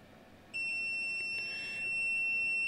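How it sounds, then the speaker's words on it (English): A clamp multimeter on its continuity setting emits a steady high-pitched electronic beep that starts abruptly and holds for about two seconds while probes touch the center conductors of a coaxial low-pass filter, close and clear over a quiet background. "when you touch these, you get this audible beep, and you can hear that"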